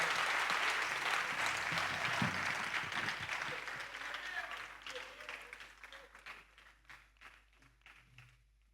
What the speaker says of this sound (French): Est-ce qu'on peut applaudir pour toutes les mères ici ce soir?